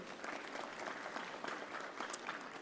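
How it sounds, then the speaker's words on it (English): A graduation ceremony crowd gives the UJ Choir a round of applause, a steady wash of many hands clapping at moderate distance for the whole stretch, with no voices over it. "Shall we give them a round of applause?"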